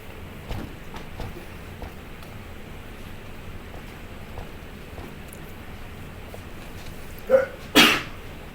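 A single sharp sneeze bursts out near the end after a quiet stretch with faint background rustle and a few soft knocks.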